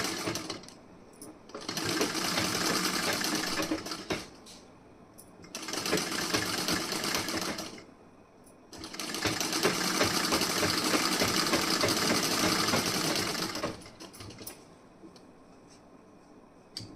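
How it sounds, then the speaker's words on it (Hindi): Sewing machine stitching the front part of a wedding blouse, running in three long bursts of steady whirring separated by short pauses with faint handling sounds, close and loud. "फोल्ड करने के बाद आप सिलाई लगाएंगे।"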